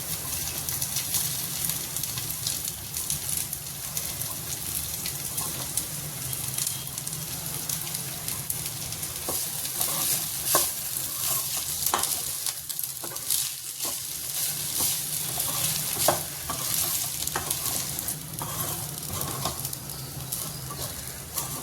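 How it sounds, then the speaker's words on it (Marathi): Cooked basmati rice stir-fried in a pan with chili powder and turmeric, giving a steady close sizzle with scraping stirs throughout and no talking. "आता मी याच्यात आपण केलेला बासमती तांदूळ घालणार आहोत"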